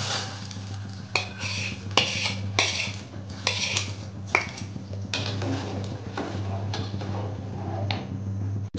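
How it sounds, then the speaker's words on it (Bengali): Spices sizzling in hot oil as a tempering for cooked lentils (dal) in a pot, with metal utensils clinking and scraping against the pot in an irregular rhythm over a steady low hum, close by and fairly loud. "ডালটা চলেন বাগার দিয়ে নিই।"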